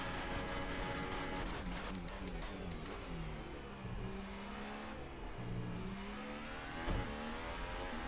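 Formula 1 race car engine in the F1 2018 video game, revving and accelerating at the Japan Grand Prix with a quick double upshift: a continuous high-pitched whine that climbs and drops in pitch as the gears change, without any talk.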